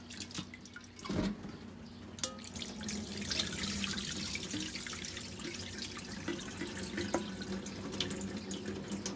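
Gukparae seaweed being rinsed in a sink under a steady running tap, water splashing and trickling continuously with small drips and handling clatters, fairly close and without voices.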